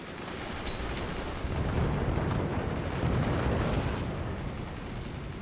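Dense, continuous gunfire and cannon blasts from the physics-based fort battle game Forts, with a loud, rumbling barrage that stays steady throughout and no talking.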